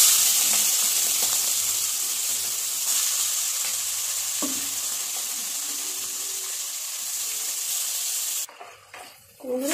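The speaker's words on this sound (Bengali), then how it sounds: "এখন আমি চিংড়ি মাছগুলো ভেজে নেব" Prawns sizzle steadily in hot oil for a jackfruit-and-prawn dish, a close, dense crackle running throughout, with a brief clatter of utensils near the end.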